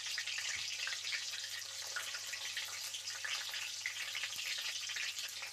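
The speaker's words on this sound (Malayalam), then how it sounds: "ഇനി 4 പച്ചമുളക് വറുത്തെടുക്കാം." Four green chilies fry in hot oil at full flame, giving a steady, even sizzle that runs throughout at moderate volume with no talking.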